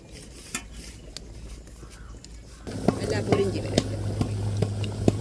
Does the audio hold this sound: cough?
no